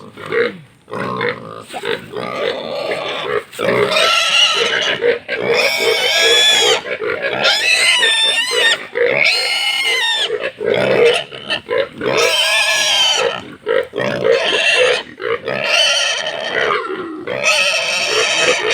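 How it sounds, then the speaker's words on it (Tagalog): Loud, close pig squeals and grunts in a continuous stream, shrill cries rising and breaking with brief pauses between bursts. "Pinatalian pa lang po ang baboy."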